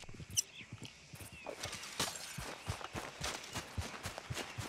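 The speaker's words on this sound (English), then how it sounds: "I'm hearing footsteps." Footsteps in Red Dead Redemption II, a quick run of faint, evenly spaced thuds that keeps a steady rhythm the whole time, with no speech over it.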